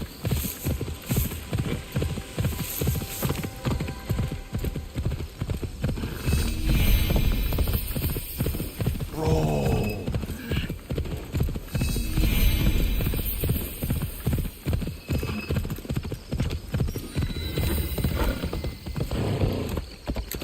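Horse hooves clip-clop steadily in Assassin's Creed Shadows, a continuous rhythmic trot over the full length alongside a low game hum, with a brief voice near the middle.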